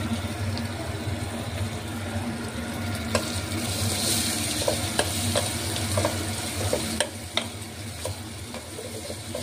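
A crushed spice mixture of pepper, cumin and fried curry leaves sizzles in a pan for rasam, a steady close frying hiss with scattered crackles and occasional stirring clicks, and no talking.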